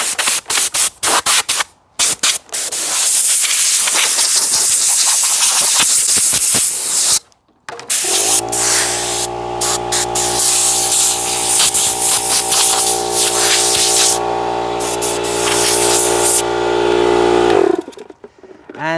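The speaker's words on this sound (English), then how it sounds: "I'm just going to blow it off" Compressed air blasts dust off freshly cut dormer cladding in loud, hissing bursts broken by brief pauses, then a long steady blast with a droning tonal hum underneath, very close.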